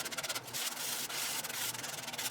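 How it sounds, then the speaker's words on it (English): Rolled-up 220 grit sandpaper rubbed by hand over a wooden cockatoo intarsia piece, a soft quiet scratching in steady back-and-forth strokes, alone. "Then I used a piece of 220 grit hand sandpaper. I like to roll it up and I sanded anywhere the flex drum couldn't reach."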